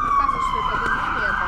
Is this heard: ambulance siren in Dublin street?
yes